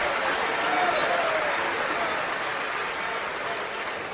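A packed Old Trafford stadium crowd at a Manchester United versus Real Madrid legends match applauds Luis Figo, a broad, distant roar of clapping under a commentator's voice.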